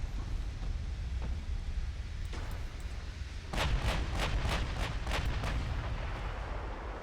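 Battleship gunfire in the naval video game Ultimate Admiral: Dreadnoughts: a low continuous rumble, then a cluster of sharp, booming salvos in quick succession midway through.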